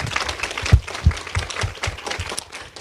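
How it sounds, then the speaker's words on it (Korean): Audience applause after a call for a big round of clapping at a Korean association general meeting, with scattered, uneven claps and a few sharper hits standing out over a moderate room wash. "큰 박수를 한 번 더 보내주시면 감사하겠습니다"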